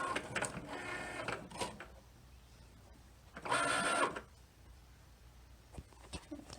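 A Cricut cutting machine drives a fine point blade through stiff felt at increased pressure, giving close, steady mechanical whirring and buzzing in bursts, with a louder, brighter pass midway and no voices.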